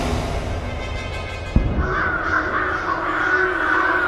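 Crows cawing in the video game Mystery Case Files: Fate's Carnival, a flock of harsh repeated caws at moderate volume after a short thump, with no talking.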